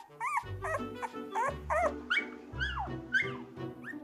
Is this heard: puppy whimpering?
yes